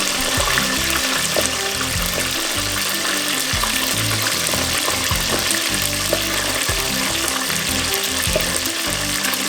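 Jamaican fried dumplings bubbling and crackling in hot oil in a deep fryer, a steady dense sizzle with irregular pops running without a break from start to finish.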